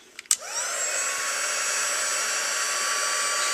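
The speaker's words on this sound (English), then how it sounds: "I'm using the new heat tool" Heat embossing tool switched on with a click and then blowing steadily over a stamped card, a continuous close hair-dryer-like whoosh and whine that holds to the end.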